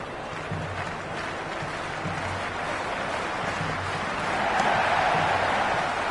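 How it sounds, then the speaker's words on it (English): A stadium crowd at an IPL cricket match between KKR and MI roars in a dense, continuous wash of cheering that swells louder toward the end. "The crowd is electric right now."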